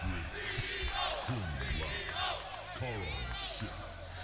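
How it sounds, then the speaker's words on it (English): A tournament crowd chants together at the CEO 2019 Mortal Kombat 11 Top 8 finals, loud and steady with rising voices throughout, while a commentator talks over it. "The chants are getting started."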